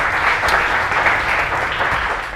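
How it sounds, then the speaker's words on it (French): Studio audience applause at a televised cooking competition, steady dense clapping that holds at full strength for a couple of seconds without letting up. "On applaudit ça."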